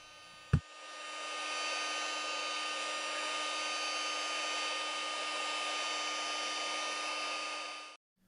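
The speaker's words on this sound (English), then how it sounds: "With a little patience and an inexpensive heat gun from a hobby store," An inexpensive hobby-store heat gun clicks on and blows with a steady, even hiss and whir for about seven seconds, softening the leather adhesive on a Polaroid SX-70 camera, then shuts off.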